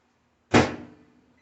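A microwave oven door shuts with a single sharp thud as a bowl of pumpkin is put inside, close and loud, then fades quickly into quiet.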